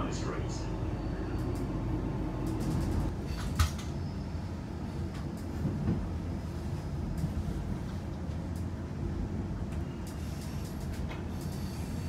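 Steady rumble of a Queensland Rail Cleveland line express passenger train in motion near Brisbane, a low continuous roar with faint rattles and clicks, as heard from inside the carriage.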